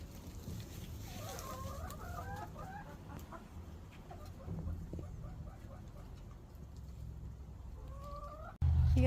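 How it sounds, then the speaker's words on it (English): Hens cluck and chatter steadily at close range while laying eggs in their nest boxes, with a constant low rumble of background noise and a brief louder thump at the very end. "Got some hens in their boxes laying some eggs."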